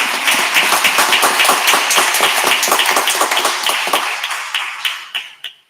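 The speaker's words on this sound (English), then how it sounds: "I think that deserves a round of applause." Applause from the audience at a school district board meeting: dense, steady clapping that thins out near the end into a few scattered final claps, with no talk over it.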